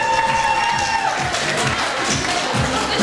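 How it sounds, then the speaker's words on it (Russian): At an award ceremony, an audience cheers and claps, with voices calling out and whooping over steady applause, busy and loud throughout. "И аплодисментами."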